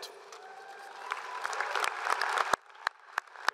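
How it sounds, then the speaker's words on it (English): A large audience applauds at a university commencement ceremony, a dense wash of clapping that builds and then thins to a few scattered loud claps near the end, heard from some distance in a big hall. "another round of applause for these talented students"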